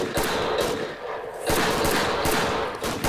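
Gunfire in a realistic Roblox shooter game comes as repeated sharp bursts of shots across a few seconds, fairly loud and with no talk over it.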